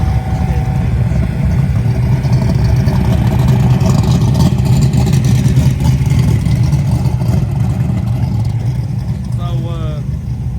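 A small-tire drag race car launches hard down the strip with a loud, sustained engine roar that fills the scene, while someone talks excitedly over it nearby.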